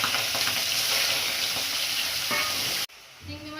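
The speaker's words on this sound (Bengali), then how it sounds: "মাছটা ভেজে নিচ্ছি।" Prawns rubbed with salt and turmeric fry loudly in hot oil in a wok, a bright continuous sizzle with light stirring scrapes that cuts off abruptly near the end, leaving quieter kitchen noise.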